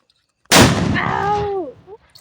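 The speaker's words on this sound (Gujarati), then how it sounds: "મયુર છે ને ફટાકડો કરવા ગયો છે" A single sharp firecracker blast bursts loudly from silence, followed by a short ringing tail and decaying echo.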